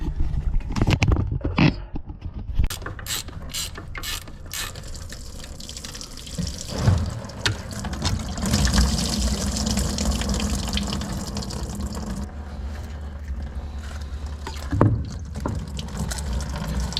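Muddy liquid drains from the engine of a 2003 Ford F250 with the 7.3 diesel during exhaust manifold work, pouring and splashing close by in uneven gushes and trickles that swell and fade throughout.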